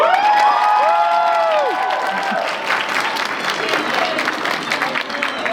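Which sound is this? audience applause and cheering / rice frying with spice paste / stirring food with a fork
audience applause and cheering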